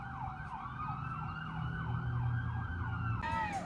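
A wailing emergency vehicle siren sweeps up and down steadily on a city street over low traffic rumble, fairly loud and continuous, with a faster yelp pattern starting near the end.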